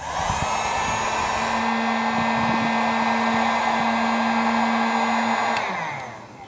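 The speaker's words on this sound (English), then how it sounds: "Now grab your heat gun." A heat gun blows a loud, steady whirring roar at close range while shrinking heat-shrink tubing over a car's fusible link wire, then winds down near the end.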